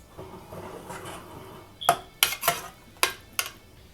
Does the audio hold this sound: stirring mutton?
yes